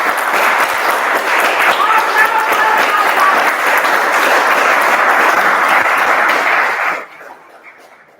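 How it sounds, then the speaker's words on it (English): Applause at a joint club meeting, a sustained and loud round of clapping from the audience that continues evenly, then drops away abruptly near the end, leaving faint room sound. "Can we have a huge round of applause?"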